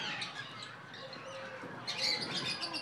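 Parrots at Chhatbir Zoo in Chandigarh give repeated chirps and squawky calls, fairly faint within a busy, noisy outdoor background.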